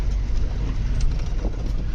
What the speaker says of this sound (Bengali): এই যে মোটরসাইকেল আসতেছে